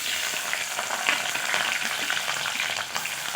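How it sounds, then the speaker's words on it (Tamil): Capsicum sautéing in hot oil for a cauliflower and potato masala, a steady, close sizzle and crackle that holds at an even level throughout with no voices. "குடமிளகாவும் எண்ணெயில் போட்டு கொஞ்சம் வதக்கியாச்சுங்க"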